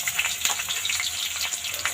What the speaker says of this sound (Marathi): आपण आता ह्या सगळ्या भाज्या ह्या तेलामध्ये फ्राय करून घेऊया